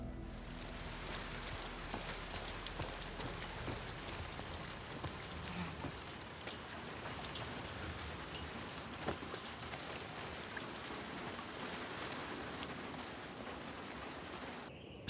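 Steady rain from The Last of Us Part 2, a dense continuous patter of drops on surfaces, even and moderately loud throughout with no voices.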